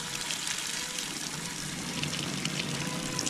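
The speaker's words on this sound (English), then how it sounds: "then we're gonna add 10 gallons of water, and it's gonna swell up and fill nearly the entire wheelbarrow" Water pours into a wheelbarrow onto a block of coconut coir, a steady, loud rushing gush that runs unbroken for a few seconds, close by and with no talk.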